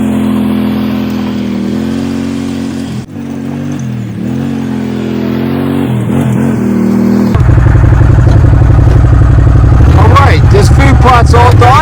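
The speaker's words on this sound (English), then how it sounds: "I'm just going to drive over it with the wheels of the buggy and just let the wheels pack it down." A buggy engine drones steadily as it is driven over a brassica food plot to pack the soil, its pitch shifting with throttle changes, then grows louder and rougher near the end as a voice talks over it.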